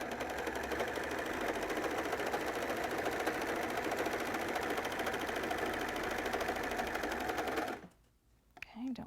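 A sewing machine runs steadily for several seconds while stretched skirt fabric is fed through, a close, even mechanical hum that stops abruptly near the end.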